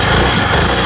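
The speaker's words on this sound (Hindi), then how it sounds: "इस बाइक का साउंड सुनाते हैं।" A repaired motorbike engine revs close and loud in a short, harsh burst with a rapid throbbing pulse under the roar.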